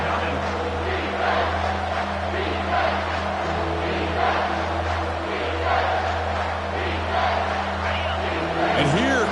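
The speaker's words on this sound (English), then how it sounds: "This crowd is trying to inspire this defense to make a big red zone stop." A college football stadium crowd roars loudly and continuously to fire up the defense ahead of a red zone stop, with an announcer talking over the swelling noise.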